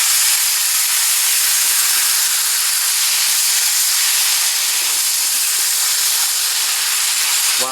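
Tomato basil sauce sizzling in a pan as it is stirred, a dense, constant hiss filling the whole stretch at a strong, even level, with no voices.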